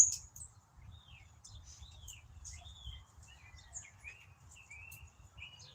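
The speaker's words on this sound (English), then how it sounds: "I don't name the birds out here" Birds chirp outdoors with sparse, thin, high calls and short whistled sweeps, faint and scattered over a quiet low background rumble.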